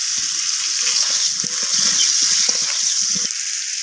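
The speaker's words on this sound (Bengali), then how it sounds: "এবার পেঁপেটাকে নাড়াচাড়া করে লাল লাল করে ভেজে নেব।" Papaya seasoned with turmeric and salt sizzles steadily in a hot pan, with close, soft scraping and stirring running irregularly underneath the continuous hiss of the oil.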